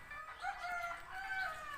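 A rooster crows near a rural house in Isan, Thailand, a drawn-out call that is faint and somewhat distant over a quiet background, with no talking.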